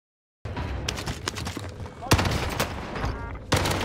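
Gunfire in Call of Duty Warzone on Rebirth Island, a burst of sharp shots with a rattling fusillade, a loud hit near the middle and another burst at the end, under game noise.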